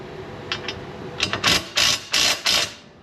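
A wrench loosens a bolt on a 1964 Correct Craft American Skier boat, a series of short metallic ratcheting bursts, sparse at first and then several louder, evenly spaced clicks close by.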